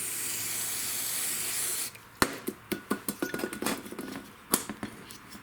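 Carburetor cleaner sprays onto the clutch of a STIHL FS56 weed trimmer, a long steady hiss that stops and gives way to a run of short, sharp spritzes and taps, close by.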